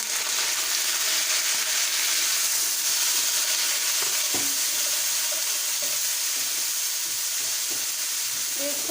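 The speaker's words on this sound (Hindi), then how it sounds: "1 से 2 मिनट हम इन्हें अच्छी तरह फ्राई कर लेंगे।" Garlic, ginger and green chili paste frying with golden-brown onions in a pan for chana pulao, giving a steady, close, continuous sizzle with faint crackles throughout.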